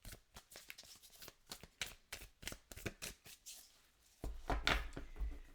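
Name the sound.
shuffling and cutting an Elements of Life Tarot card deck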